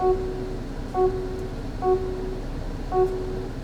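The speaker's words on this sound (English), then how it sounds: "This is why the screen is not beeping whenever I'm pressing icons on the screen." Four short electronic beeps from a Lexus TX touchscreen as icons are pressed, evenly spaced about a second apart, each a clean two-tone chirp over a low steady background hum.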